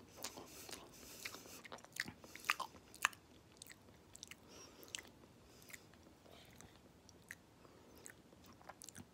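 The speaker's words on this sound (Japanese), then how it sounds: "はい、ちょっと食べてみましょう。" Someone eats microwaved Seven-Eleven cup fried rice, with quiet close chewing and occasional soft crunchy bites in a hushed room, no talking.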